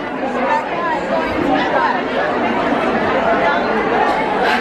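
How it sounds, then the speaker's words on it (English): Dense crowd chatter fills a busy knitting and yarn event hall in New York City, with many overlapping voices at steady loudness close around and no single speaker standing out. "Now we know where the crowd was."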